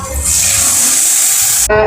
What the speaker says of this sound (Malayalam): ഇനി അതിലോട്ട് ആവശ്യത്തിനുള്ള നമ്മൾ വെള്ളം ഒഴിച്ചു കൊടുക്കാം